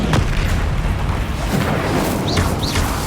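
The Confringo fire-blast spell goes off in Hogwarts Legacy as a loud, continuous booming roar of explosions with no break.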